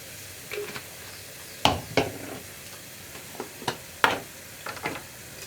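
Spice powders fry with ginger for kadala curry while a spoon stirs the pan, giving soft sizzling under several distinct scraping and tapping strokes spaced irregularly, close and clear.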